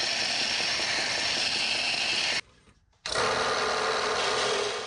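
A belt sander grinds burrs off metal parts while restoring a 1940s Craftsman drill press, giving a loud, steady abrasive whine that cuts out briefly partway through and then resumes.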